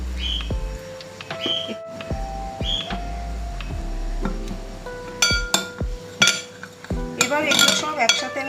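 Spices, roasted kasuri methi and lemon juice are mixed in a bowl for a paneer tikka filling. A spoon clinks and taps against the bowl in uneven knocks, with brief ringing tones, nearby and growing busier toward the end.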